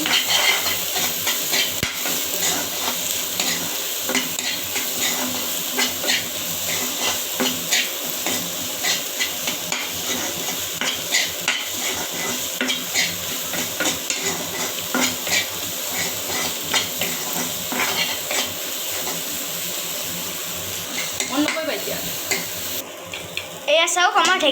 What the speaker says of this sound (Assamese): এতিয়া আমি গোটেইখিনি মিক্স কৰি দিওঁ